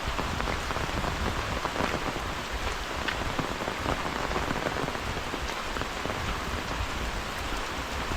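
Heavy monsoon rain pours down in Konkan, a dense, steady roar of drops drumming on surfaces close by, unbroken and loud throughout with no voices.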